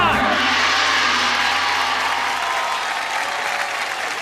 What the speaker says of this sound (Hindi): यहाँ पे आप अपने लिए ताली बजा रहे हैं।